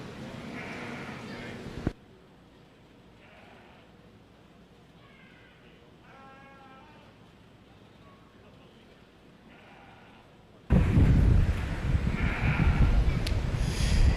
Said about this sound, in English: Interesting pair of sheep out here.